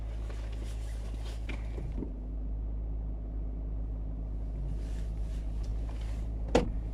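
Range Rover driving on a road during a test drive for a limp-mode fault, giving a steady low engine and road rumble throughout with a brief sharp knock near the end.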